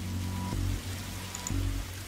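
Steady rain falls throughout a scene in The Darkside Detective video game, a soft continuous hiss sitting under low droning game music with a couple of brief tonal swells.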